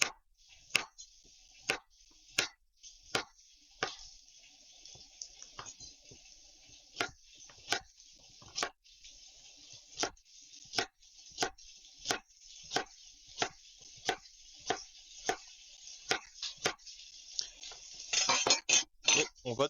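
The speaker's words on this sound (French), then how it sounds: "Carottes que je vais juste couper en rondelles." A knife cuts carrots into rounds on a board, sharp evenly spaced chops about one per second, close and crisp, speeding up into a quick flurry at the end.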